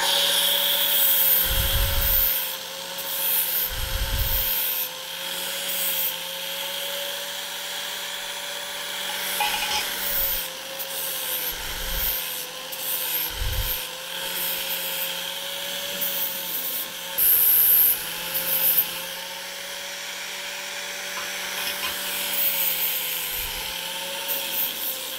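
A steel profile edge being chamfered ahead of MIG welding on a 45° corner joint, a steady whining motor drone with a faint rhythmic scraping and several heavy low thumps spaced through the passage.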